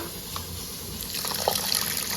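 Water poured into a vessel to dissolve jaggery for watermelon panakam, a soft, steady gush and trickle that swells slightly partway through, close by with no talk.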